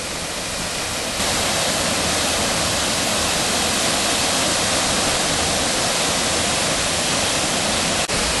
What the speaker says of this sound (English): there's a close-up of them there, back of Thornton Force waterfall